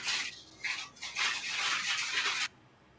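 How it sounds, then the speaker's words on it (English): A bright whooshing burst of magical energy from an arcane blast spell in a tabletop role-playing game crackles and swells for a couple of seconds, then cuts off sharply into quiet. "That is the sound of the arcane blast killing a bandit."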